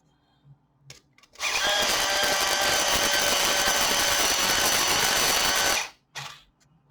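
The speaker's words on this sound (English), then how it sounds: "And I want to sharpen it a little bit." A colored pencil whirs in an electric sharpener for about four seconds, a loud, steady grinding buzz that starts and stops abruptly, with faint handling sounds before and after.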